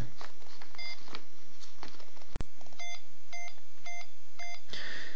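A homemade DIY assistant device for the visually impaired beeps in short, evenly spaced electronic tones, repeating in pairs and groups, with a single sharp click midway and light room noise behind.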